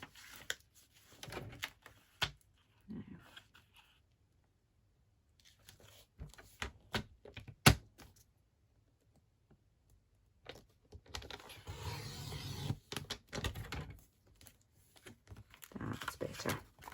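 Extra cardstock being trimmed off a handmade anniversary card, with quiet scattered clicks and taps followed by a longer run of soft scraping cutting strokes, close and faint with no talk.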